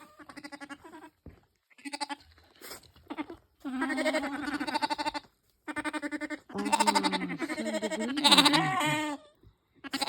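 Lambs bleat repeatedly and close by in a hay barn on their first night there, overlapping calls in bursts with short pauses between them.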